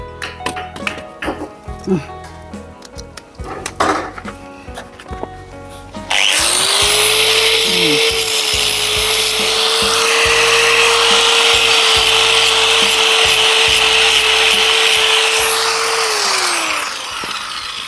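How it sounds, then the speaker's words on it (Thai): Angle grinder fitted with a cutting disc, running loud and steady for about ten seconds with a high whine, the motor spinning up and winding down; talk and clattering handling noise come before it. "ตัดด้วยลูกหมูเลย"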